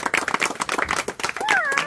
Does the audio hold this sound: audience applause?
yes